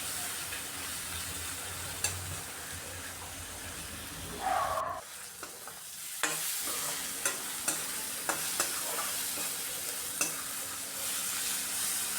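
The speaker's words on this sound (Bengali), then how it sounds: "এইভাবে বারবার নাড়িয়ে আমি পেঁয়াজটাকে খুব ভালো করে ভাজা ভাজা করে নিচ্ছি।" Onions frying in hot oil are stirred again and again with a spatula, giving a steady close sizzle broken by regular scraping knocks against the pan.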